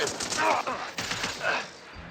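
Gunfire in the Mass Effect Andromeda video game, a short burst of several shots over about two seconds, loud and close, with a voice speaking beneath it.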